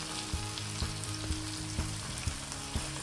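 Paneer frying in a little oil in a pan over low heat gives a steady close sizzle, with soft regular ticks and scrapes from stirring, and no voices.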